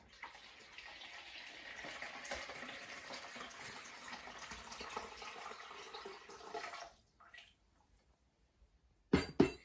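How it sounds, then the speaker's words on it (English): Lukewarm water pours steadily from a kettle into a bowl for several seconds with a broad splashing rush, then stops, followed by a few light clinks. "grab your kettle of 850 ml of lukewarm water and pour it into a bowl very carefully"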